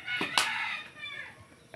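A chicken gives a few short, sharp clucks and squawks close by, the loudest near the start and a fainter call following, with no other sound competing.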